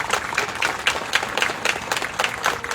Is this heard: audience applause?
yes